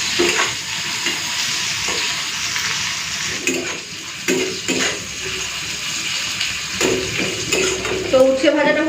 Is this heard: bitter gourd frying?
yes